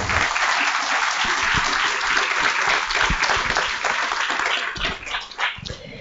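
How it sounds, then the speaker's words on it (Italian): Audience at a literary award ceremony in Olbia applauds warmly, a full, continuous patter of many hands close by that thins out slightly toward the end. "Le facciamo un bell'applauso"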